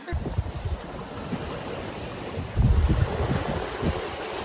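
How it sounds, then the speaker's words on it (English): Strong wind buffeting a fully reefed sailing boat at sea, a steady roaring rush with gusty swells and low thumps of waves against the hull, close and loud throughout. "it's very windy here"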